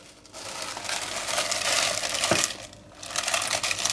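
A plastic bag crinkles and rustles close by as it covers a bowl of cream, a dense crackling handling noise that swells, pauses briefly, then resumes.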